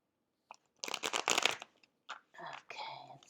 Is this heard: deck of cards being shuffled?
yes